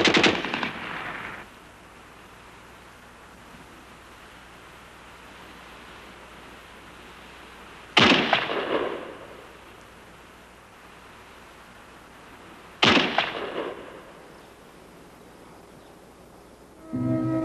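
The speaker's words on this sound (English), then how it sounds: "Some casual shooting disturbing the quiet. A few snipers dueling to relieve the tension." Sniper rifle and machine gun fire on the Soviet-German front around the great tank battle of July 1943: four loud, close single shots spaced several seconds apart, each trailing a long echoing decay into near silence.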